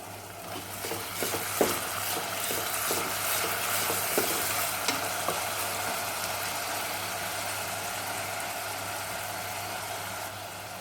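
Ginger garlic paste and onions fry in a pan for prawn pulao, a steady broadband sizzle with scattered stirring clicks and scrapes, loudest early on, plus a low constant hum running underneath throughout.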